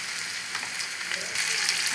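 Cumin and mustard seeds sizzle in hot oil with a little salt, a close, steady frying crackle that swells louder toward the end, with no talking.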